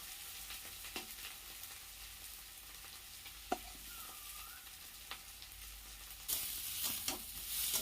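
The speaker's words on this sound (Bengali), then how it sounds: "সেদ্ধ আলু যদি ভাজা যায় তেলে, তেলে ভেজে যদি করা যায়" Boiled potatoes fry in oil in a kadai, giving a quiet, steady sizzle with occasional stirring clinks and scrapes, growing a little louder toward the end.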